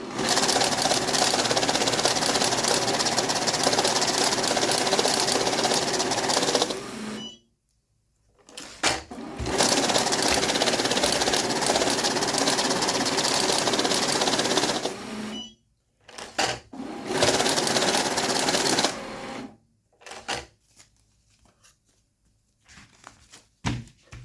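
A Kisan K2A bill counter whirs steadily as it riffles banknotes through in bursts of several seconds, stopping and restarting a few times with brief clicks between runs.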